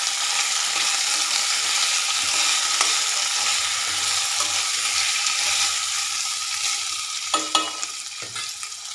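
Green chillies, coriander and mint fry in a pan and are stirred, a steady sizzle with a few louder spatula scrapes near the end; no talking.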